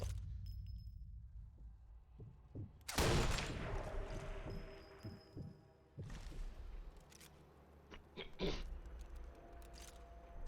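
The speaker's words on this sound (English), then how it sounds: "gunshot heard." Gunfire in the war video game Sniper Elite 4 cracks out in sharp, fairly quiet bursts, with one strong blast and several scattered shots over a low ambient background.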